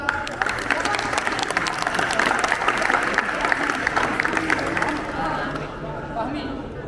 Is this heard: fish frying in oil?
no